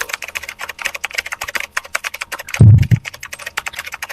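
Library typing sound effect: fast, dense keyboard key taps in a continuous close rhythm, with one brief low thump partway through.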